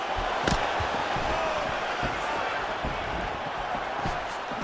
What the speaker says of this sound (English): Crowd continues to sway with every huge shot being landed.